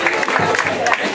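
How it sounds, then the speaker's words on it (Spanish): A short burst of crowd applause at a women's Zumba event, clapping mixed with some cheering and voices, close and fairly loud. "Así es, un fuerte aplauso."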